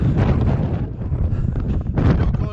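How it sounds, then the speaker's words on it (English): Gale force wind buffeting a microphone on the Y Gribin mountain ridge, a loud continuous roar with heavy low rumble and gusting surges throughout, swelling stronger toward the end. "Gale force wind, we call it exhilarating."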